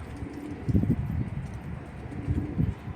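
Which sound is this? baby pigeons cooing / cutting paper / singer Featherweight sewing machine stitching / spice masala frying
baby pigeons cooing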